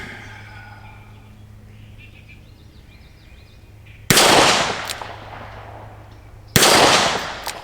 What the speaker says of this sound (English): All right, I'm gonna hit these plates.